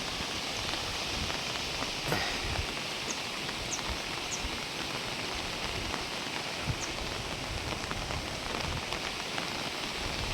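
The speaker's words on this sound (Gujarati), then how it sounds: "એવો અટાણે વરસાદ પડી રહ્યો છે" Steady winter rain falls and patters on surfaces nearby, an even hiss with scattered drips, no voices, continuous for the whole stretch.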